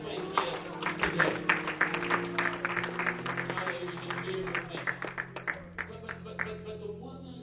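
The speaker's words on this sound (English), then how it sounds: "won't you give him a hand clap in this place here today?" Church congregation clapping for Jesus after a sermon, a brisk burst of rhythmic hand claps that thins out toward the end, with voices talking over it.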